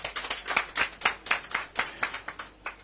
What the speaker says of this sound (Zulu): cela sibashayeleni ihlombe